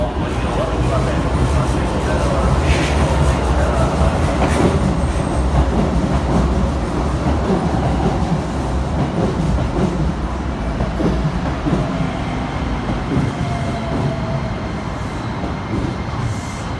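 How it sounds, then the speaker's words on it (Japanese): An out-of-service train rumbles steadily along the rails into a depot at Keikyu Shinagawa Station, wheels clattering with a continuous low roar close by. "この電車は車庫に入る回送電車です。"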